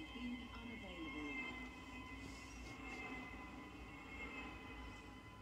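A Stepford Express train departs in the Roblox railway game SCR, giving a steady low rumble and rolling rail noise that holds for several seconds at moderate level.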